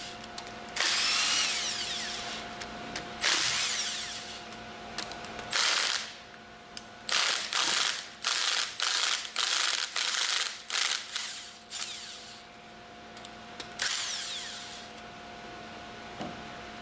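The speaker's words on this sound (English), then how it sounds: "Use the impact wrench to loosen the remaining bolts in the order demonstrated." An impact wrench loosening the manifold bolts on a pump packing stack, loud and close, with sustained bursts at first and then a rapid series of short hammering bursts and pauses.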